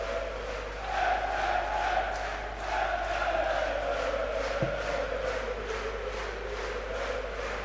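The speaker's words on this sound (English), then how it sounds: "The crowd finding their voices." Darts crowd in Halle 39, Hildesheim, a broad sustained roar of voices rising and falling steadily throughout, with no clear applause peaks.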